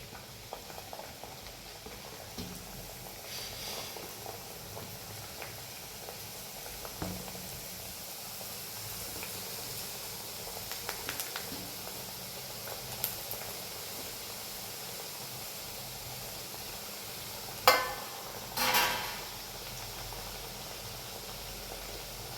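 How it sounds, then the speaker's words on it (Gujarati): Wheat puris fry in oil over a low flame, giving a soft, steady sizzle and bubbling hiss throughout, with two brief louder clatters near the end. "તો હવે આપણે પૂરી તળી લઈશું"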